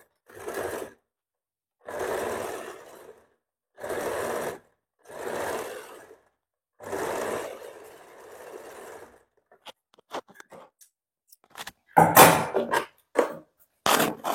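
A sewing machine stitching a princess cut blouse runs in five steady bursts of about a second each, close and clear. Sharp clicks and a final louder rattle of fabric handling follow.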